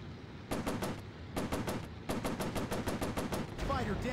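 Rapid machine gun fire rattles in a VR warplanes combat game over the Pacific, several fast bursts of evenly spaced loud shots separated by brief pauses, over a steady engine drone.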